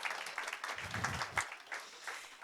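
Light applause from a conference audience welcoming a speaker, a modest patter of claps that is fairly faint and brief, with a soft low thud partway through.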